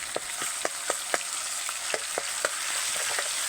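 Garlic, ginger and green chilli paste fries in oil with a bright, constant sizzle, while a spoon taps and scrapes the pan in quick, regular strokes.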